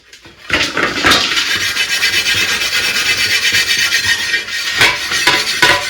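A scrubber rasps hard and steadily against an old, heavily blackened iron tava, with a dense continuous abrasive rubbing and a few sharper strokes, close and loud with no voices.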